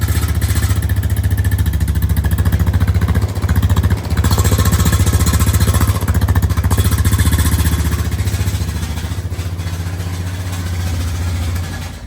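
A Honda TRX 420 ATV engine idles steadily and close by, with a low, rough, rapid-pulsing exhaust drone that suggests a blown-out muffler, running alone for the whole stretch.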